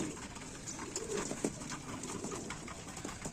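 Pigeons cooing steadily in a training loft, soft repeated throaty coos under a continuous bed of bird chatter and rustling, fairly close with no talking.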